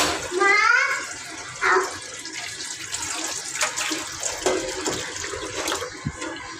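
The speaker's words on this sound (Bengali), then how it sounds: "পানি দিয়ে দিচ্ছি এখন" Water pours into a curry pot on the stove, a gurgling splash starting and running intermittently underneath a voice and other talk nearby.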